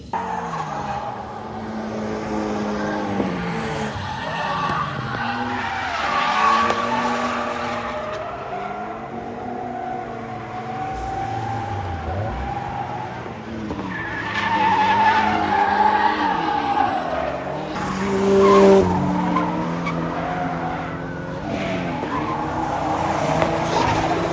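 Toyota 86 cars drift at a Japanese event, with loud sustained tire skids and squeals over revving race engines, rising and falling in waves as cars slide past nearby throughout.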